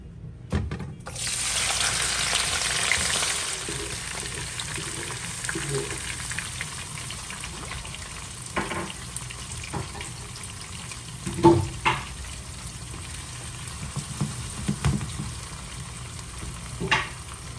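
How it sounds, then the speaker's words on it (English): Seasoning dropped into hot oil for Jamaican ackee and saltfish sets off a steady loud sizzle that holds, then settles into softer frying crackle with clinks and stirring knocks. "I think the oil hot enough, so put in the seasoning now"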